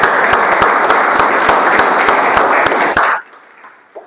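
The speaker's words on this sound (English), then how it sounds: "I would like to have a big round of applause for all the members and all the ECs up here." Audience applause at a Toastmasters club meeting: a dense, loud crowd of clapping hands with sharp individual claps standing out, holding steady for about three seconds before cutting off abruptly into near quiet.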